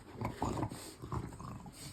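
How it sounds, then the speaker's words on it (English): A dog growls and makes agitated, rough vocal noises in short bursts, fairly faint and slightly distant. "that's just my dog going insane"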